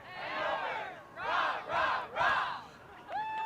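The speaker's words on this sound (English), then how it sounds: "here the Hanover crowd trying to get into it" Hanover fans shouting and cheering in bursts at a high school soccer game away at Bishop Guertin, a fairly distant crowd roaring in several surges, with a whistle near the end.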